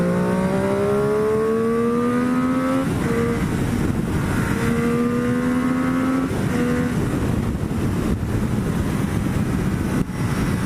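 A Triumph Daytona 675 motorcycle roars close by at speed, its engine note climbing through repeated rising sweeps as it accelerates hard, loud and continuous with wind rush.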